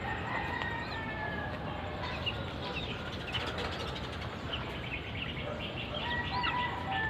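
Chickens and chicks on a Texas-breed chicken farm, with roosters crowing and clucking throughout and high chick peeps scattered over steady farmyard noise, all at moderate, fairly close distance.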